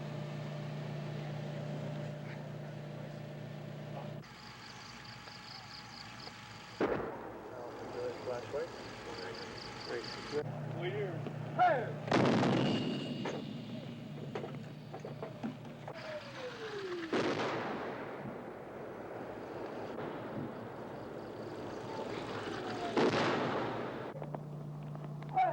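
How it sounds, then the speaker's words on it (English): Protective artillery fire called in at the edge of a jungle clearing during the Vietnam War, heard as repeated loud booming blasts with rolling echoes over a steady background drone. "protective artillery is called in"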